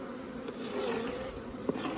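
Bees hum steadily around a beehive, a close, moderately quiet buzz with occasional louder passes of individual insects.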